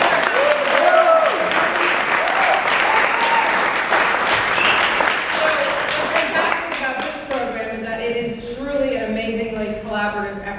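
Audience breaking into applause at a Houston Health Department event, sustained loud clapping that thins and fades toward the end as a voice begins speaking over it.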